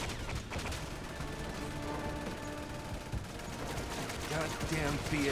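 Gunfire in the video game Resident Evil 6, a steady mix of rapid shots and bursts running the whole time at fairly even loudness, with game voices and music layered underneath.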